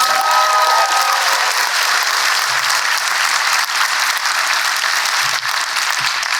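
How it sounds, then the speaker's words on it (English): An audience at a public conversation with Angela Davis breaks into sustained applause, a broad even roar of clapping with a faint voice briefly audible at the start. "Clap it up."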